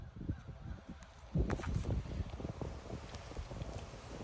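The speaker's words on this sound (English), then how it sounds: "this wind today" Strong wind gusts outdoors at a match, roaring and buffeting the microphone in a steady low rumble with brief louder surges, no talk heard.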